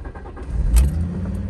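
A Fiat Coupe engine cranks and catches, rising into a loud, close rumble that settles to a steady idle.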